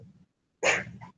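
One sudden, sharp human sneeze bursts out in a single loud, close explosive puff, preceded by a faint low murmur and ending quickly.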